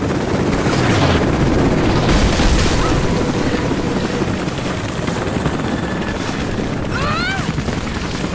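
Helicopter rotor and engine drone fill the scene in the Rise of the Tomb Raider copper factory level, loud and continuous throughout, with bursts of gunfire and a brief whistling sweep near the end.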